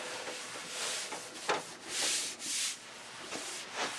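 A microfiber cloth rubs over a shellac finish on an MDF assembly table, giving soft, close swishing strokes in an uneven rhythm, with a few brighter surges, and no talking.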